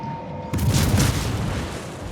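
A World of Warships cruiser's naval guns firing on the Akazuki: one loud, deep boom erupts after a short quiet tone, then rumbles and decays over the following second and a half.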